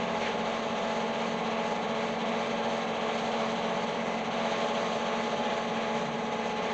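Steady buzzing hiss of welding on a shortened driveshaft for a 1983 Chevy C30, continuous and fairly loud throughout with no pauses.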